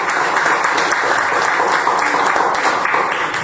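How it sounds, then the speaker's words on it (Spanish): An audience applauds loudly and evenly for several seconds at a live event, with dense overlapping claps and no clear voices above them. "un aplauso también."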